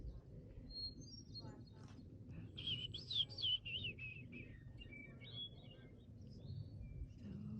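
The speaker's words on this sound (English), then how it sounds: "I hope y'all can hear the hermit thrush." A hermit thrush sings in the mountain forest of Mt Mitchell State Park, giving faint, distant fluting phrases of a few seconds each against a low background hum.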